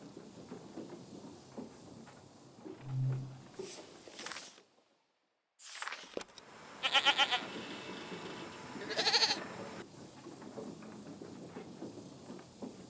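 Goats in a video game bleat in a few short nasal calls over a soft ambient background, with a brief silent gap midway and a couple of clustered bleats near the end.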